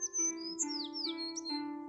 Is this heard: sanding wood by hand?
no